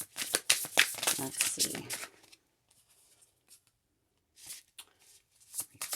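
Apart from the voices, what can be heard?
shuffling tarot cards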